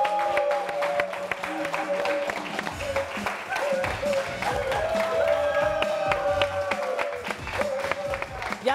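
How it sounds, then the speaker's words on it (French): A studio audience applauds and cheers to welcome an afro-zouglou guest on a midday television show, clapping and whoops mixed with sustained tonal backing sound and voices throughout. "Merci de faire des applaudissements nourris pour Sentinelle."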